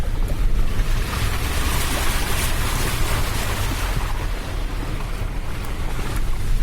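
A vehicle ploughs through deep standing water, with a continuous loud rushing wash of spray and wind roar that holds steady from start to end and has no voices over it.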